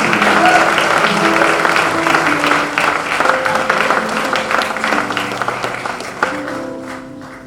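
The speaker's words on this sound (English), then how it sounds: "Give them a round of applause" An audience applauds a volunteer choir at an MLK Jr. celebration: loud, dense clapping that gradually tapers, with lingering sustained tones and some murmuring mixed in beneath.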